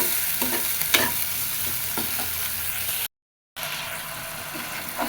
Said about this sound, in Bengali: হালকা পরিমাণে জল দিব যাতে মশলাটা কষে যায়